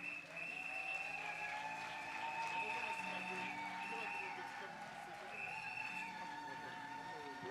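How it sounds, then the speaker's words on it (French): Audience applause for the archbishop at a formal assembly, steady sustained clapping throughout, heard under music or voices with tonal lines running on top. "Sous vos acclamations"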